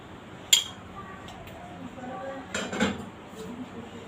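Spiced beef mince being mixed in a bowl for galouti seekh kabab, with a sharp utensil clink against the bowl early on and a few softer scraping knocks after, fairly close and without talk.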